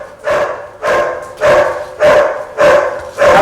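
A dog at a house barks six times in a steady, evenly spaced rhythm, loud and close, with no other voices.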